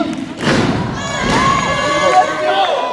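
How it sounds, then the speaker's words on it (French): Crowd noise swells at a Royal Rumble wrestling event, a thick roar with a heavy thump from the ring near the start, and cheering and shouts carrying on steadily beneath a voice heard over the arena din. "On demande des acclamations."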